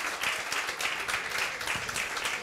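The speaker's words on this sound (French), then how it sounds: "applaudissements" Audience applause at a live New Year's Eve show, many hands clapping in a steady, moderately loud wash throughout.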